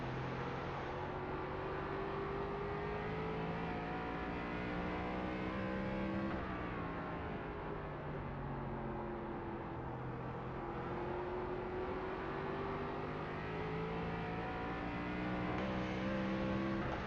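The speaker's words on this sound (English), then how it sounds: "As soon as you hear the engine on that rev limiter," ARCA race car engine in the iRacing sim at USA International Speedway, a loud, continuous high-revving drone with pitch that rises, dips and bounces against the rev limiter, no talk over it.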